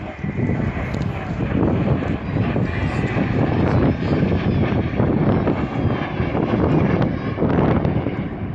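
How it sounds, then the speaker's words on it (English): Vintage Folland Gnat jet at an air display, a broad steady roar of engine noise mixed with gusting wind on the microphone, loud and continuous throughout. "so it's quite a vintage jet, and the technology in it is far from computerized"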